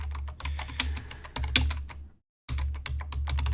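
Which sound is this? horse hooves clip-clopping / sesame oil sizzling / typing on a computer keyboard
typing on a computer keyboard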